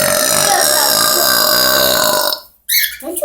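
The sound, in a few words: pet bird burping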